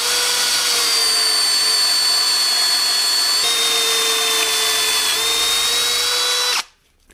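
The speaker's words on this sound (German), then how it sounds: "Loch rein mit einem 25er Pfostnerbohrer" A drill drives a 25 mm Forstner bit through wood, with a wooden panel clamped beneath to stop tear-out. It gives a loud, steady, close whine with a slight pitch dip midway, then cuts off abruptly near the end.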